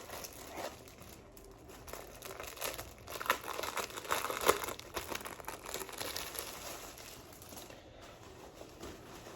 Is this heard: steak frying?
no